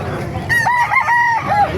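A rooster crows once at a gamecock market in Calumpit, Bulacan, close and loud, a short, clipped call over faint background noise.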